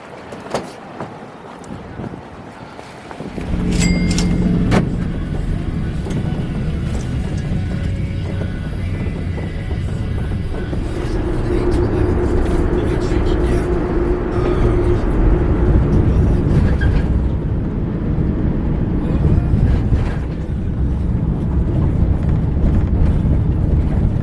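A steady low engine rumble and road roar fill the inside of an airport shuttle bus headed to Burbank Metrolink station, starting after a brief quiet moment and holding loud and even, with faint speech in places.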